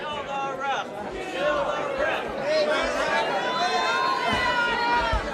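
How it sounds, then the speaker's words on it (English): A wrestling arena crowd cheers during a prime-time main event. The roar of the audience is loud and continuous, with shouts and whistles rising through the mass of voices. "The crowd is electric here tonight, folks."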